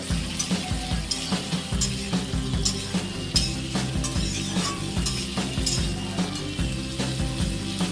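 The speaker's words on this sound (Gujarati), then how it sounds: "તમે જોઈ શકો છો બટાકા અને ચણા મિક્સ થઈ રહ્યા છે" Potato and chickpea curry is stirred in a pan, giving a continuous soft sizzle with repeated scraping and clinking of the spoon against the metal, close up and steady, with no speech.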